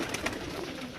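Pigeons cooing on a rooftop where baby birds are kept, soft low coos under a dense wash of background noise, brief and fairly faint with no speech.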